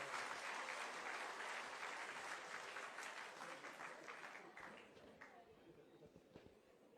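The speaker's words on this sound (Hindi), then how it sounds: "जोरदार तालियों के साथ स्वागत कीजिए" Audience applause welcoming the Chief Minister at a closing ceremony in Dehradun, a dense, steady wash of clapping from a large crowd that gradually thins and fades toward the end.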